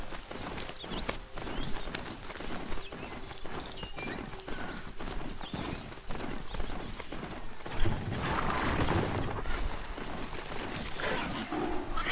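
Steady rhythmic hoofbeats of a mechanical horse galloping in the video game Horizon Zero Dawn, clip-clopping continuously, with a rustling crash of brush partway through and no talking.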